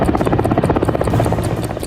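Helicopter landing NSG commandos on the roof of the parliament building during a security drill, its rotor chopping loud, close and continuous throughout.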